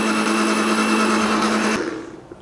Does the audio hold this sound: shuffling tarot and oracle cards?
no